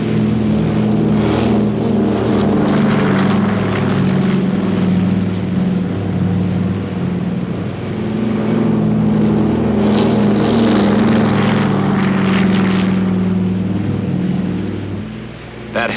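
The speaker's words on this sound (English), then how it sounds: "the planes are launched to support the Marines at the front" Military planes launch, likely from a carrier, during the Korean War to support Marines at the front: a loud, sustained low engine roar with droning harmonic tones that swells and fades across the clip.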